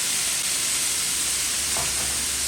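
Vegetables frying in a pan with soy sauce just added, a loud, dense, steady hiss of sizzling close by, with a brief louder spurt of bubbling near the end.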